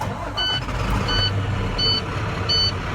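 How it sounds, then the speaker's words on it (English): Four evenly spaced high-pitched electronic beeps from a truck's cab warning buzzer, repeating steadily over a low idling engine rumble. "As soon as I get rid of this buzzer, which is kind of annoying"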